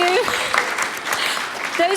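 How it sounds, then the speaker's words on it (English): Audience applause at an entrepreneurship talk, a dense wash of clapping lasting throughout with faint voices mixed in. "we should give a round of applause to the people who are still standing"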